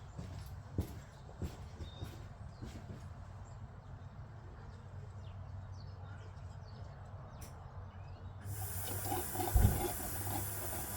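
A fuel pump is primed and starts pushing liquid into a bottle: a quiet outdoor background with scattered bird calls and clicks, then a sudden steady hissing gush near the end, with a brief louder thump.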